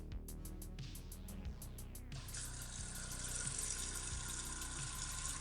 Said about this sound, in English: That's not a drip, that's a full flow.